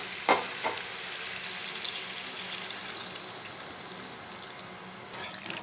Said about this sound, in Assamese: এতিয়া মই পানী দি দিম।